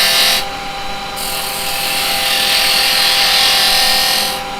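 A woodturning lathe spins as a carbide chisel cuts into the wood, giving a loud, continuous whirring hiss that holds steady for several seconds, with a short dip near the start and no voices.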